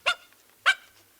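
A dog gives two sharp, separate barks roughly half a second apart. They are close and loud, with quiet in between.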